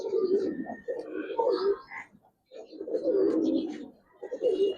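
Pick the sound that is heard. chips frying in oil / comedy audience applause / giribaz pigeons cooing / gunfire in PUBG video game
giribaz pigeons cooing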